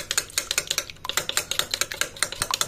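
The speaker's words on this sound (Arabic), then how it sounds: "دلوقتي حطينا 1 معلقة لبن على صفاره البيضه، هضربهم" Egg yolk and a spoonful of milk beaten briskly with a utensil against a bowl, giving a fast, steady run of sharp clicking taps, close and fairly loud, with no talking.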